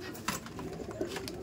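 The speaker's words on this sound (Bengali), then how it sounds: "এটা আন্ধ্রা পায়রা" An Andhra pigeon in a loft in Barrackpore gives a soft, brief coo, close by, against a steady background hiss.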